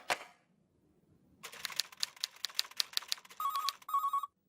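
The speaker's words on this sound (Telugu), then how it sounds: "మన్మథరావు గారు ఎన్నిసార్లు ఫోన్ చేసినా లేడని చెప్పిస్తున్నారు?" A telephone rings in a comedy film scene, a quick burst of rapid bell-like trills after a short knock and pause, then two steadier electronic tones, close and clear with no talk.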